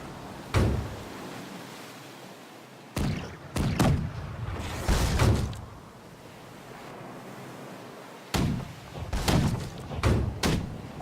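Ship cannons firing a starboard broadside in the naval video game Blackwake, with several heavy booms arriving in separate clusters over wind and surf, each blast followed by a rolling decay.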